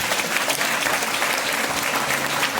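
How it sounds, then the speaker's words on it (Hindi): A church congregation applauds loudly, a dense and sustained burst of clapping from many hands that holds steady throughout. "जोरदार ताली बजाइए उसको।"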